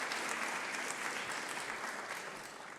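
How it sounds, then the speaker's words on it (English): Audience at a telecom stakeholder forum on 5G cybersecurity gives a warm round of applause for a speaker, a dense steady wash of many hands clapping throughout, tapering slightly at the end. "a warm round of applause for Anthony, who is speaking on a new topic"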